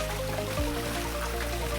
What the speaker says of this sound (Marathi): पाऊस इकडे खूप जोरात आहे